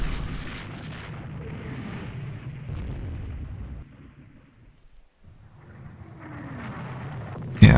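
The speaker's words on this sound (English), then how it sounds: "Trading fire." Naval gunfire trades back and forth in Rule the Waves 2, a game battle between warships. Heavy rumbling booms roll on continuously, fall away to near silence for about a second, then build again and end on a sharp loud blast.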